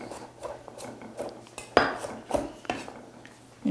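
A knife chops garlic cloves into small pieces for garlic oil, sounding as irregular, close, sharp taps on a board with no talking.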